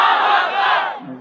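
A crowd at a Bangladeshi Islamic sermon gathering roars Allahu Akbar in unison in reply to a takbir call, a loud, sustained chorus of many voices that fades briefly at the end.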